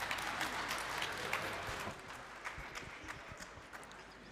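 Audience at the Namibia International Energy Conference 2024 gives a round of applause; sustained, fairly distant clapping from a large room that slowly thins out.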